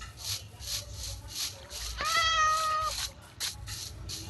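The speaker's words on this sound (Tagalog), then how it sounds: "Dito pa pala yung pusa ng mga alaga ni Mang Jose." A cat meows in a clear, drawn-out call outdoors, near and moderately loud, with steady background noise and sounds from the surroundings around it.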